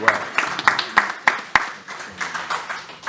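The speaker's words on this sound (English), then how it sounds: "let's give a round of applause also for Julian" Audience clapping at a chamber of commerce networking breakfast, a scattered round of hand claps with sharp individual slaps early on, thinning out toward the end, with some voices mixed in.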